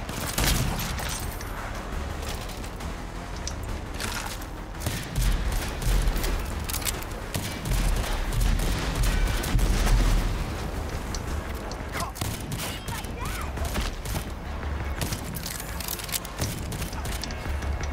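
Dense gunshots crackle in RAGE 2 as a loud, busy firefight, with repeated sharp reports and thumps layered over continuous game noise.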